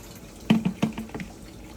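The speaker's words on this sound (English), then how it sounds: "Let it drip." Water drips from an aquarium filter lid, a handful of close, distinct plinks falling at an uneven rhythm over a quiet background.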